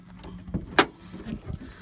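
The bonnet of a 2001 Autosleeper Pollensa 2.8 HDi diesel motorhome is opened: a single sharp metallic click, surrounded by a few soft, muffled thuds nearby.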